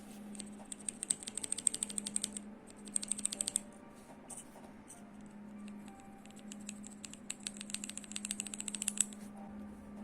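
A Redragon Kala K557W mechanical keyboard with blue switches types in rapid, crisp bursts of clicky keystrokes, close and distinct over a faint steady hum.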